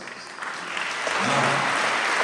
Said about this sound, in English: You can open your eyes and clap for yourselves.